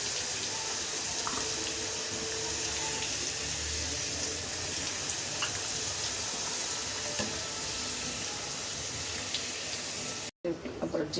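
Potatoes deep frying in a pan of oil for aloo dum, a steady broadband hiss and crackle that stays even and close for about ten seconds before a brief break, with no voices.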